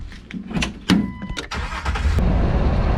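A Jeep TJ Wrangler engine floored at full throttle, revving loud and close yet straining and failing to climb, its rough drone steady and unbroken throughout.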